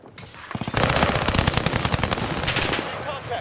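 Rapid bursts of automatic gunfire in a multiplayer shooter video game, loud and dense, with several volleys overlapping for most of the stretch.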